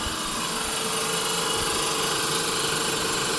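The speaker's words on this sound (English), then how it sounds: "the compressor's been running for an hour and 13 minutes" FuelMaker C3 gas compressor running to fill a cylinder tank to about 1000 psi, giving a loud, continuous mechanical drone and hum with a steady buzzing whine and no voices.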